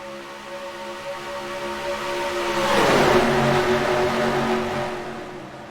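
Race truck engines from the iRacing Powerade Truck Series at Chicagoland roar steadily as the field takes the green, with a broad swell of revving passing close around the midpoint before settling back to a sustained drone.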